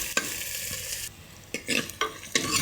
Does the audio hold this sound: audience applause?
no